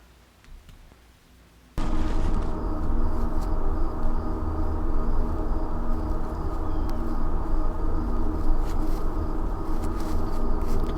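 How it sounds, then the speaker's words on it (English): Crunching footsteps on dry leaves, recorded close with a microphone as foley for a short horror film, starting suddenly after a near-silent pause and continuing as a dense, steady rustle to the end. "me stepping on leaves with a microphone"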